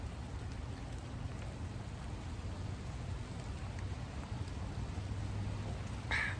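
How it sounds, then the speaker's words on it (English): Steady rain patters and hisses throughout, a dense wash of noise with a low rumble underneath. "It is starting to rain a little bit more now"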